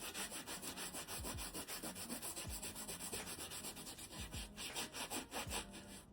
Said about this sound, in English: Gloves on, sanding block in hand. I'm just about to start roughing up the surface a little bit for adhesion.